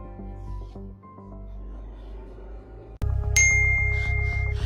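A mobile phone rings with an incoming call, a bright repeating electronic tone that cuts in loudly midway after a quieter stretch of melodic background music, with no talk.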